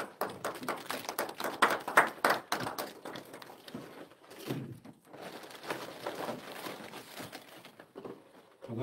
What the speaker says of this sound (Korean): 박수로 맞아주시겠습니다.